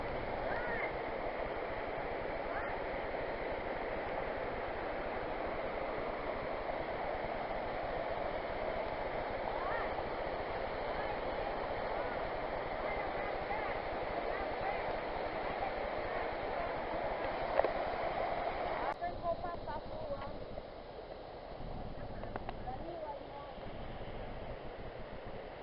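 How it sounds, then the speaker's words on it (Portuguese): Water rushes steadily over a small waterfall at Cachoeira do Poção in Miguel Pereira, a constant close wash of noise running the whole time, with faint voices in the background. "É uma cachoeirinha."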